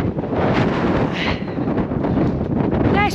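Strong wind buffeting across an open Yorkshire moor, roaring and gusting loudly right at the microphone for a few seconds, with a faint higher whistle near the end and no clear speech.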